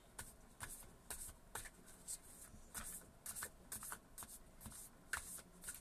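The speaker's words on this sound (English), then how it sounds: "way too many cards jumped out, so I'm just going to throw them back in there and shuffle them around" A deck of cards shuffled close by, in quick, repeated riffles and soft slaps, quiet and rhythmic.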